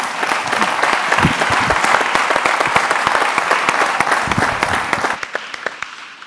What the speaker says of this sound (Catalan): Us demano un aplaudiment pels quatre.